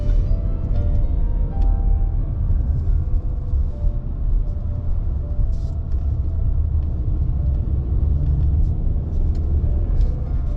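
Inside a moving car, a steady loud low rumble of road and engine noise fills the cabin evenly throughout, with faint clicks and rattles over it and no talking.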